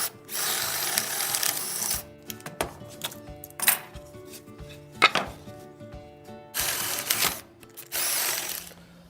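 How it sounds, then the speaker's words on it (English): A power drill bores 3/4 inch holes through two clamped wooden boards in a few loud whirring bursts at the start and end, with clunks and handling knocks in between. "drill 2 3/4 inch holes one right here, one right there"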